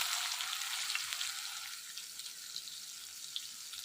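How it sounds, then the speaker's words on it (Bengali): Onion added to hot oil already holding whole cumin, whole chillies and whole garam masala gives a soft, continuous hiss and crackle that starts strong and settles slightly quieter, with no voices. "এই যে পেঁয়াজ দিয়ে দিলাম।"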